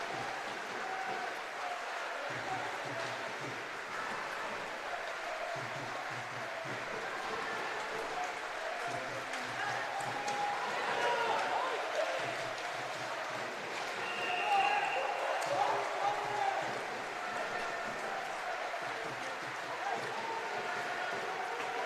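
An ice hockey arena crowd rises and applauds for a Nottingham Panthers player, a sustained, fairly distant wash of clapping that swells slightly midway, with commentary voices over it.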